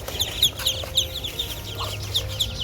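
Five-day-old ducklings and their mother duck make a steady stream of rapid, high peeping chirps with some softer low calls underneath, close and continuous.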